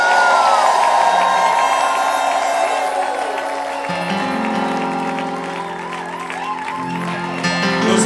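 A church congregation at a worship service cheers and shouts with joy, a loud, dense crowd roar with whoops that keeps going over sustained musical tones.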